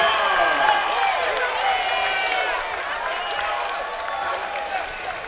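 Basketball crowd at a college game between Chipola and Miami Dade roaring after a slam dunk, a loud sustained wash of cheering and shouting that tapers slightly, with an announcer talking over it.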